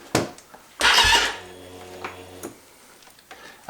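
A KTM motorcycle engine is cranked briefly to check its timing chain, giving a short burst of starter whirr and mechanical clatter with a few faint clicks and a low hum afterward.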